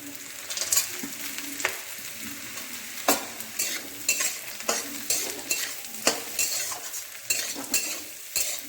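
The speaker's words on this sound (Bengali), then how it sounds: "এবার আমি কাজুটা দিয়ে দেবো" Cashews sizzle in hot oil in a pan at home while a spatula stirs them in repeated scraping strokes, a steady crackling fry with regular sharp knocks close by and no talking.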